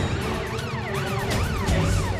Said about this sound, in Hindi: वो एम्बुलेंस आ गई है।